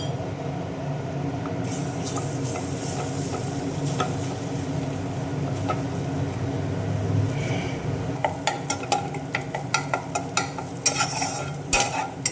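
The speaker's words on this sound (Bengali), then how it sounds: "একটা ডিম ফাটিয়ে নিলাম এটা ফ্রাই করে নেব" A cracked egg fries in a pan for Kolkata street-style egg chowmein, sizzling steadily up close, with stirring scrapes and a run of sharp metallic clinks and taps toward the end, no voices.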